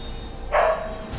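A single short dog bark in the video game Strider, synthetic and game-like, rising briefly over a quiet electronic background hum.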